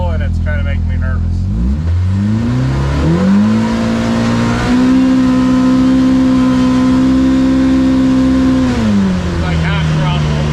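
A 2025 Polaris RZR Pro R engine revs up and holds a loud, steady drone at half throttle, then eases off near the end, heard from close range.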